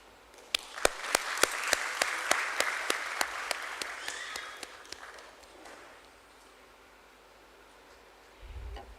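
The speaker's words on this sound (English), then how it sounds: "Let us have a resounding of claps" Scattered, sparse clapping from a small group at a stock exchange listing ceremony in Mumbai, sharp individual claps that thin out and fade after a few seconds, leaving quiet room noise.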